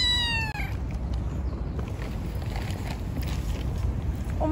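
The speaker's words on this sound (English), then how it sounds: "Oh, look at this kitten," A small kitten meows on a street in Bishkek, Kyrgyzstan, with a few high, thin cries near the start over steady outdoor traffic and wind noise.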